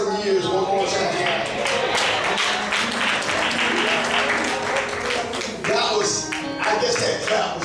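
A church congregation claps loudly together during a Sunday anniversary service. The rapid, dense clapping mixes with voices and musical tones and stays strong for the whole stretch.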